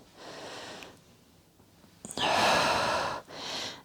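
A person exercising with a resistance band takes a soft breath in, pauses, then gives two strong, loud exhales through the mouth, the first long and the second shorter.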